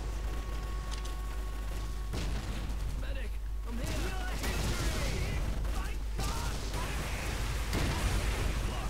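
Battle sounds in the World War II strategy game Codename: Panzers Phase Two, with repeated gunshots and cannon booms in bursts amid mechanical clatter, while someone talks over the action.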